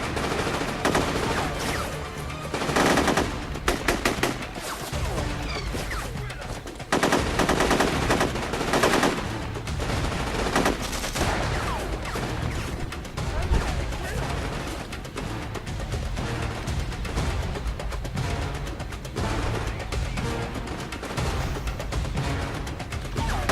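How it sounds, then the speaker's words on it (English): Video game gunfire from the shooter Raven Squad rattles almost without pause, with dense machine-gun bursts and overlapping shots forming a loud, chaotic battle din. "You can't even see who they're shooting most of the time."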